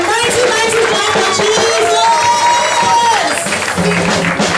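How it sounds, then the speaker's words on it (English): A church congregation claps and cheers for the Holy Spirit during a sermon, sustained loud applause with crowd voices and shouting mixed in throughout. "give a mighty clap for the Holy Spirit"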